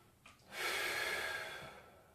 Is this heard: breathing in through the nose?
yes